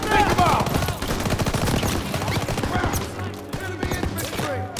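Machine gun fire from a second-floor position in the video game Call of Duty WWII: dense, loud, chattering bursts throughout with overlapping shots and battle noise, easing slightly midway before picking up again.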